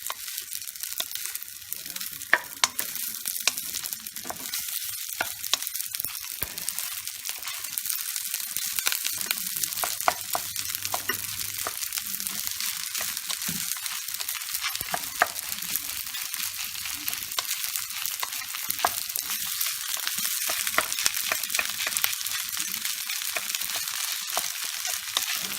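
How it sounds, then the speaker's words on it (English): Food sizzling and frying in a hot pan while being stirred and mixed through, a steady close crackle running throughout with scattered scraping taps of the utensil, no talking. "we give that a thorough mix through"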